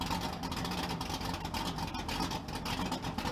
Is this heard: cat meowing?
no